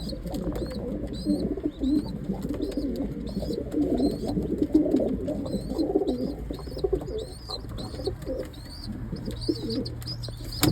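Pigeons in a loft with chicks a few days old, soft repeated cooing close by over a steady low hum, with occasional chirps and no voices.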